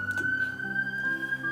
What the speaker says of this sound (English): could you hear the sirens like I could there